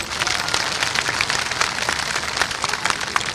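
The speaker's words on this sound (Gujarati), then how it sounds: "એકવાર જોરદાર તાળીઓ પાડીને સમર્થન આપજો" An audience at a Thakor community mass convention breaks into dense, continuous applause. Many hands clap at once in a steady, moderately loud wash.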